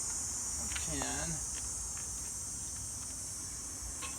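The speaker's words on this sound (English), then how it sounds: "That's cicadas? Cicadas?" Cicadas buzz loudly and steadily in a high, continuous drone throughout, with a voice briefly speaking underneath near the start.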